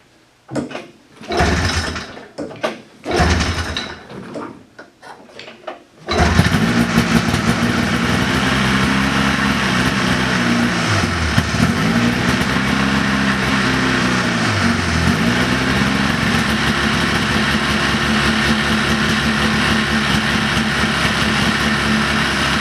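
An engine cranks in uneven bursts, then catches and settles into a loud, steady idle with a rhythmic throb that continues without a break.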